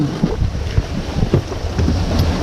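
A sailboat beating close-hauled hard into the wind at sea, with loud, gusty wind rushing across the microphone over the slosh and thump of waves against the hull, continuous and close.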